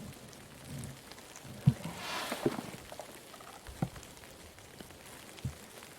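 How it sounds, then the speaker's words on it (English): Rain falls in the woods as a soft, steady patter of drops, quiet and diffuse, with a few louder knocks from drops or movement close by. "it has started to rain, which is a bit unfortunate"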